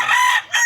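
A Regular Gray and Boston Sweater cross rooster crows once, loud and close, a short bright call with a brief dip before its final note.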